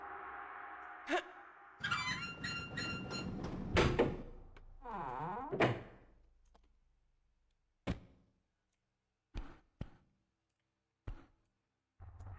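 A door opens in Tomb Raider 2 Remastered with a heavy mechanical grinding and sliding rumble ending in a thunk, followed by several short, separate clicks and thuds.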